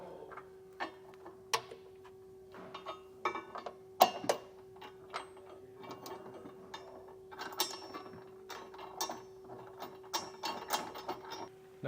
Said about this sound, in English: On the driver's side, you can just use a ratchet and a 19mm socket.